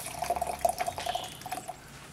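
Hot water from a tap runs steadily, with a faint, irregular patter of drips over the flow, all fairly quiet and with no talking.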